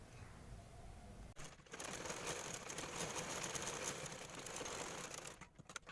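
Sewing machine stitching lace onto both sides of a small doll dress for a Laddu Gopal Navratri outfit, a steady close mechanical whirr that starts after a quiet moment and runs continuously before stopping.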